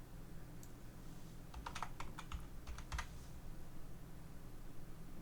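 Someone types a short word on a computer keyboard: a quick cluster of light clicks near the middle, over a quiet room hum.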